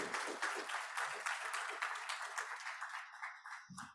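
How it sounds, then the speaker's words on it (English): Brisk audience applause fills a hall at an agricultural and environmental law conference, steady and close for several seconds before thinning out at the end. "Let's give them a round of applause"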